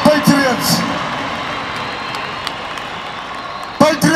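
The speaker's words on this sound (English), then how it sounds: "Can we give them a hand of applause?" A crowd at a rally applauds and cheers for cyclists who rode in, a burst of claps and whoops at the start that settles into sustained background clapping, with a voice speaking over it near the end.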